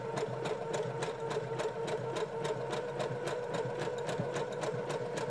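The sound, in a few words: sewing machine stitching a zigzag edge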